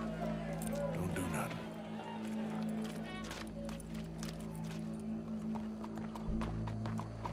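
In the video game Red Dead Redemption 2, hooves clop on hard ground while a steady low hum drones underneath, with scattered voices and a brief whinny-like cry early on.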